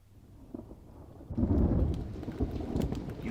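A thunderstorm with rain: quiet patter at first, then a loud rumbling roll of thunder bursts in and keeps rolling over heavy rain.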